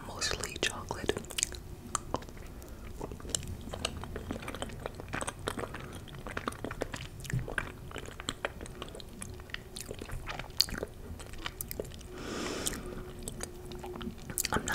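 Someone in a quiet room eats a mostly chocolate bite of rainbow cake, producing soft, close, moist chewing and smacking that repeats steadily throughout, with a little quiet breathy vocal sound now and then.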